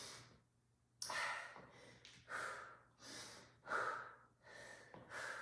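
Heavy rhythmic breathing during an advanced TRX strength workout, about six deep breaths in and out, close and fairly loud, alone without talk, some with a slight snorting edge.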